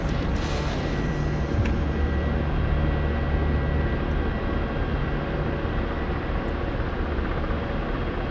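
Helicopter flying low in a video game, a steady unbroken engine and rotor drone that stays constant and fairly loud throughout, with no talk over it.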